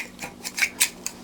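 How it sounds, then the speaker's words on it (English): Scissors snip through a feather's shaft while making an atlatl, giving five or six short crisp cuts at an uneven pace, close up and moderately quiet, with no voices. "I will demonstrate how this is done with scissors"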